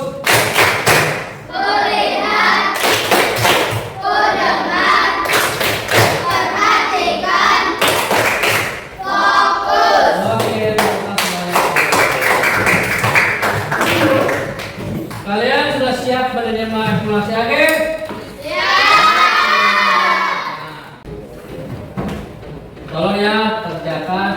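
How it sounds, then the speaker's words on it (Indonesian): A fifth-grade class at a primary school doing a 'tepuk fokus' clapping routine, rhythmic bursts of group clapping and thumps mixed with children chanting and a teacher's voice, loud and close. "selanjutnya tepuk fokus"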